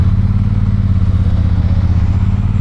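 A Triumph Thunderbird 1600 motorcycle rumbles steadily under way, a loud, continuous low engine drone with a deep pulsing beat and no voices.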